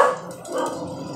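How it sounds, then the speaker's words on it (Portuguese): A brief burst of dog barking, close and loud, with a couple of sharp yaps that trail off quickly. "não liga não que os cachorros estão aqui"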